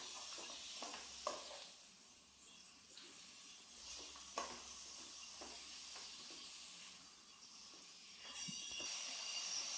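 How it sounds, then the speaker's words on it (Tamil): Half a kilo of mutton is stirred into masala in a pan, a faint steady sizzle with occasional soft scraping strokes of a spoon, fairly distant and low in level. "மட்டனையும் இதுல சேர்த்து நல்லா மிக்ஸ் பண்ணிக்கலாம்."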